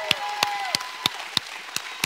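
A church congregation claps in praise in a slow, steady unison beat, roughly seven evenly spaced claps over a sustained background tone.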